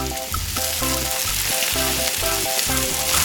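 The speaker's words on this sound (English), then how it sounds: "the sound of the sizzling oil is so satisfying" Loud, steady sizzling of fish frying in hot oil in a pot, crackling continuously throughout with a rhythmic musical backing underneath.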